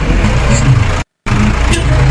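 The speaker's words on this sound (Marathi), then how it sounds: "गाडी गेली" A vehicle during a village procession in the Konkan rolls close by with a loud, steady low engine rumble, cut by a short silent gap and then continuing just as strong.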